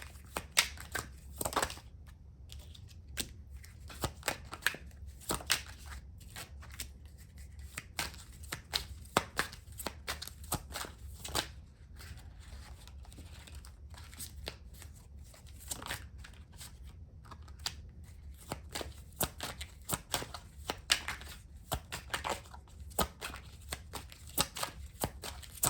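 Tarot cards being shuffled and pulled: quiet, crisp riffling and flicking in irregular bursts, close up and alone, with no talk.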